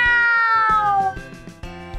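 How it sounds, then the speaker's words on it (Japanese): A small kitten meows in a drawn-out, high, wavering call that fades, then short soft mews follow, close and alone against a faint background hum. "小さな子猫がひょこひょことついてきてしまいました。"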